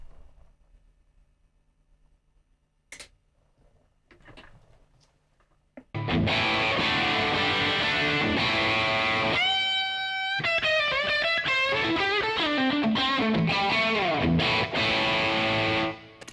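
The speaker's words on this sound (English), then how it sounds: "let me demonstrate what happens with this amplifier if I bring the master volumes down" Quiet scattered noises, then a distorted electric guitar through a Mesa Boogie Stiletto Ace amp with master volumes turned down plays loud sustained chords and a run of picked notes.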